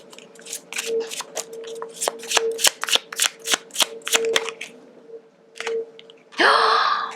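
A deck of tarot cards is shuffled by hand, giving a run of crisp riffling flicks close up, then a brief pause and a longer rushing riffle near the end.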